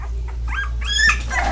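Dog puppies of a bully breed whimpering and whining in a few short, high cries over steady low hum and handling noise, close by.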